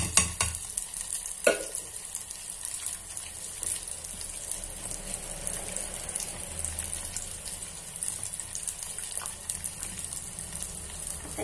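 Besan being stirred into an onion mixture frying in a pan, with a steady close sizzle and a few scraping strokes, one sharper clink near the start, no talking.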